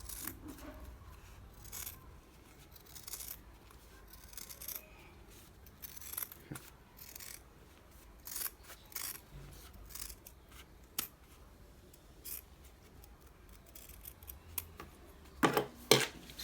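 Scissors snip through fabric while cutting a double collar, producing close, crisp irregular cuts and blade clicks separated by short pauses, with soft handling rustle between.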